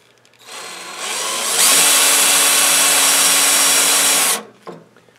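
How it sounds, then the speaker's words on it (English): A power drill with a small bit whirs up, runs at a high steady pitch for a few seconds drilling a small pilot hole, then stops abruptly, loud and close. "I always like to start with a small drill bit."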